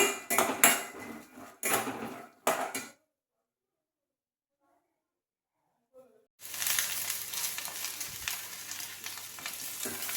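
Garlic and cumin roast in a pan for groundnut chutney, with sizzling, stirring and spoon scrapes against metal in short bursts, then a stretch of silence before a steady sizzle returns loudly and close.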